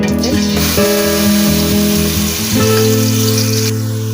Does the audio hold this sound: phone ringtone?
no